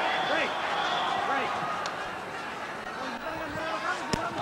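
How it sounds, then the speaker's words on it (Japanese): A single dull thud of a boxing body blow lands near the end, brief and solid, under an excited Japanese commentator's voice and crowd murmur at a WBC super bantamweight title fight. "ドスンというパンチが音を立てました。"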